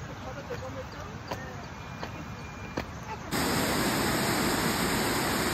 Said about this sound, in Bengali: সহস্রধারা ঝর্ণা দেখতে আসছো?